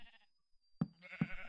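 Two short sheep bleats from a Minecraft game, each a quick nasal baa, spaced about half a second apart after a brief quiet stretch with faint game ambience.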